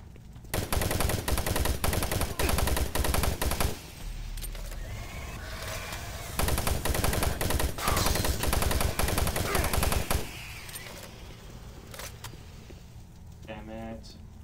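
Automated turret machine guns in Doom 3 fire in long, loud sustained bursts with a short break between them, then fall away to a quieter mechanical whir and electronic tones.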